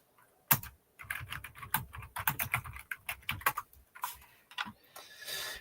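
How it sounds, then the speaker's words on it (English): Rapid, irregular clicking of fingers typing on a computer keyboard, close by and fairly crisp, in uneven bursts with brief pauses and no talking. "Hold on, I'm just typing in."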